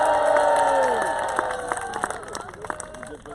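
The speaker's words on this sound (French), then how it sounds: "Donc on va les applaudir très très fortement." A summer camp crowd claps and cheers loudly, with shouting voices on top that gradually fade over a few seconds.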